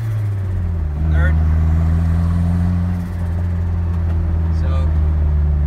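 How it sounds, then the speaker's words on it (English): Turbocharged 2.4L Jeep Wrangler TJ engine droning steadily as it pulls through the gears, with a couple of faint turbo flutter chirps rising over the loud, constant exhaust note. "So you hear the turbo flutter, it's just an awesome noise"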